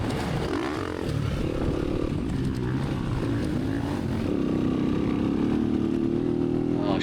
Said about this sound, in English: Riding the 2020 YZ 250FX today.